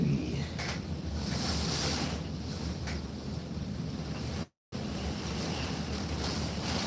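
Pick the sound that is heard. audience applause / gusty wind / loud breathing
gusty wind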